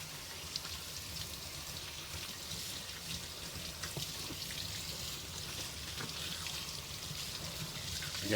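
Tap water splashing and pattering steadily while dirty leather work boots are rinsed, a soft continuous hiss at low level with no talk.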